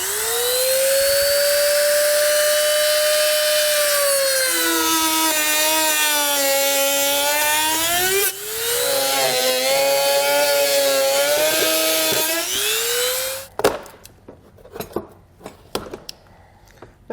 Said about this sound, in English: So now we'll take our Dremel tool here. We'll go ahead and finalize our 2 cutouts.